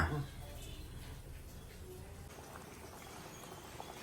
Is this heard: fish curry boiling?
yes